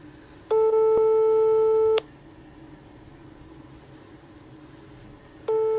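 A telephone busy tone after a call to the Paris zoo was hung up, with one long steady beep, a pause of quiet line hiss, then the tone starting again.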